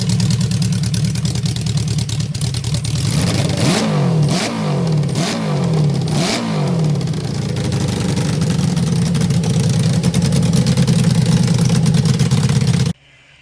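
A Honda CB550 motorcycle engine fitted to a go kart runs loudly and steadily at a high idle, rising through several quick revs in a row before settling back to an even drone.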